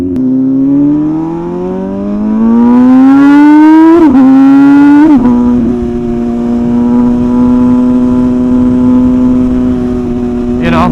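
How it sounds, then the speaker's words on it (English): An MV Agusta motorcycle with a custom decat exhaust revs loudly up close, its pitch climbing over a few seconds, then drops back and holds a steady, throaty drone. "when we made the decat exhaust, which unleashed the sound of this bike"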